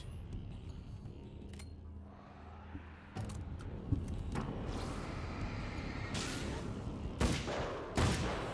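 Rifle shots in Alan Wake's American Nightmare, sharp separate cracks spaced a second or so apart over a low rumbling game background, fairly quiet overall.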